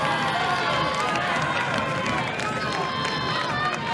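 A crowd at a Little League Baseball regional championship game between Kentucky and Ohio lets out a sustained, loud roar of cheering under a commentator's voice.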